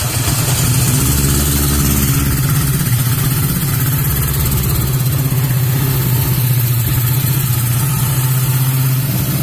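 A 1976 Honda CB750F motorcycle engine idles steadily up close, a loud, even, continuous mechanical rumble that runs unbroken throughout with no voices.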